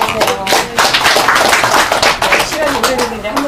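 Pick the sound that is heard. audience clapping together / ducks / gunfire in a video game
audience clapping together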